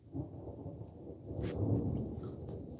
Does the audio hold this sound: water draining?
no